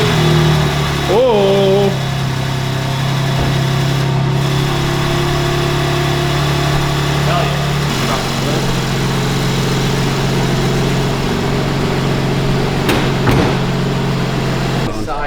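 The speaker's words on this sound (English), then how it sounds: "So let's turn this car on and see how she looks." A BMW G80 M3 engine fires up and settles into a steady, throaty idle that runs close and loud for the whole stretch, with a brief voice heard over it.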